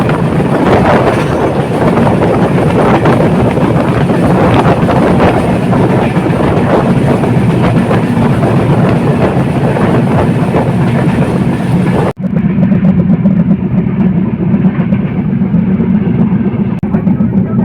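The Panchagarh Express passenger train races along at high speed, heard from on board as a loud, constant rumbling roar, which suddenly shifts to a duller, muffled rumble near the end.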